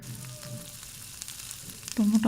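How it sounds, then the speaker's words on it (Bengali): Drumsticks, potatoes and eggplant frying with turmeric in a home kitchen, a steady close sizzle and crackle that swells louder at the end. "হালকা একটু ভেজে নিচ্ছে ডাটা আলু আর বেগুনগুলো"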